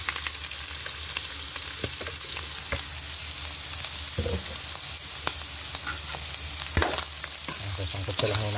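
Beef sizzles loudly in a hot pan as it is dropped in and stirred for papaitang baka, a constant frying hiss with occasional utensil knocks and scrapes.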